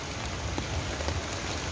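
A sudden shower falls in Fort Canning Park, Singapore, a loud continuous hiss of rain with scattered drops tapping nearby, no talking.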